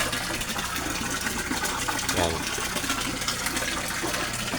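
A strong Aquaspeed submersible water pump drives a waterfall into a koi pond, producing a loud, constant splashing gush of falling water heard up close without interruption.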